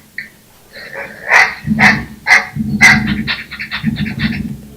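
A puppy barks in a voice game: a series of short, bright yips and barks, some with whimpering tones, repeated in quick succession, close and clear with no talking.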